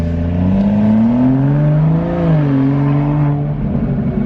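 A BMW 435i with an N55 engine and catless downpipe exhaust drones and revs loudly up close, its pitch rising and dipping, then breaking into rough burbling as the revs drop off, with no voices.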